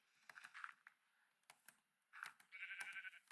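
Sheep in the Minecraft video game give faint, short bleats, several times over a few seconds, mixed with quiet keyboard taps and clicks.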